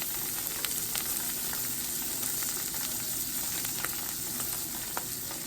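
Fish sizzles skin side down in a hot pan, a steady close frying hiss with crackling pops throughout, no voices.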